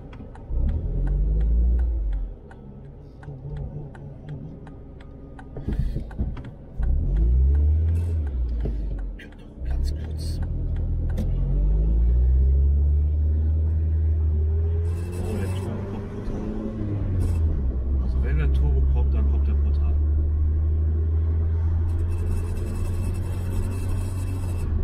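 A VW Lupo 1.8T with a GT28 turbo and a loud, aggressive aftermarket exhaust rumbles and revs close by, its deep engine note swelling and falling over about 25 seconds while people talk over it.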